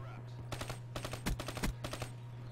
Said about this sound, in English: He hears the XR2 bullets coming out.